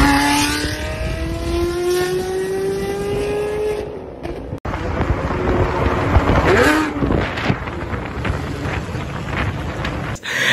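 Ferrari F360 Modena Spyder with a Powercraft exhaust, heard as a loud, sustained engine note rising in pitch as the car accelerates, with wind buffeting the microphone and a brief dropout partway through.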